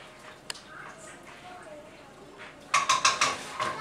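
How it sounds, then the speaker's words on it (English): Stirring a pot of creamy fish chowder: faint scraping at first, then a burst of clinking spoon-against-pot strokes near the end, close and moderately loud. "And we're going to stir this up."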